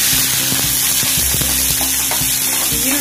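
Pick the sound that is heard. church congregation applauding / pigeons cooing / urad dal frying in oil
urad dal frying in oil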